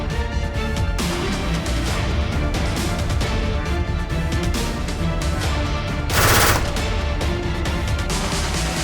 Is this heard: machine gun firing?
yes